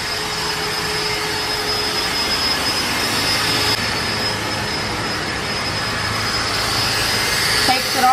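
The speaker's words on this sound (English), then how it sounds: "what we've got here is a 3M eraser wheel" A 3M eraser wheel on a power tool whirs continuously at high speed while removing a badge from a car body, a steady loud whine with no pauses.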